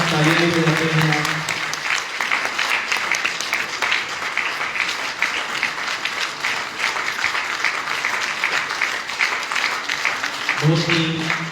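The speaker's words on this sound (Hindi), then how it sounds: "रिकॉर्डिंग के साथ साथ तालियां भी बजाते हैं आप।" A live audience claps steadily at a devotional booklet release ceremony, with sustained, dense, fairly loud applause for about ten seconds and a voice speaking briefly at the start and again at the end.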